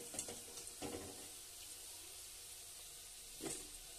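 Palm fruit fritters (taler bora) fry in hot oil with a steady, close sizzle broken by a few sharper crackles and stirring clatters.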